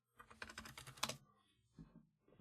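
Rapid typing on a computer keyboard at a terminal, a close burst of dense key clicks for about a second, then a pause and a few scattered keystrokes.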